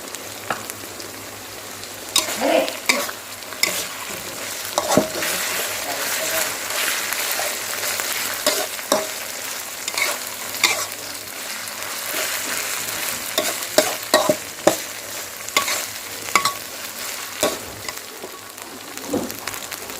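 Beef stir-fried with sliced chili in a hot pan, a continuous sizzle with repeated scraping and clacking strokes of a utensil, close and steady, with someone speaking intermittently over the cooking.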